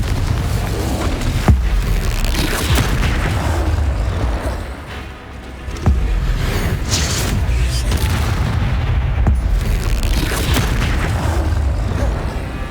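Explosive spells in the video game Hogwarts Legacy go off as a dense, loud barrage of booms and blasts, with a brief lull midway before the bursts resume.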